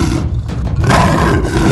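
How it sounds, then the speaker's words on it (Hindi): Shera, a cruel big cat in a cartoon animal story, lets out a loud, close, rough roar lasting under two seconds, with no talking over it. "तभी वहाँ शेरा का दहाड़ने की आवाज आती है"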